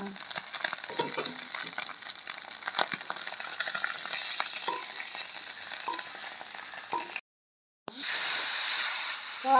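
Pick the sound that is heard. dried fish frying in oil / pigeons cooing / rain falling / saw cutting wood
dried fish frying in oil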